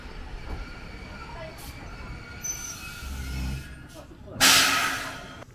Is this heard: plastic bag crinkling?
no